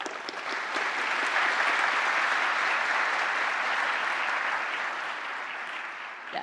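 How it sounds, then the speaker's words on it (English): Sustained applause from a conference audience at a keynote panel discussion, a steady wash of clapping that swells and holds for several seconds before tapering slightly. "Please join me in giving a round of applause to our panelists."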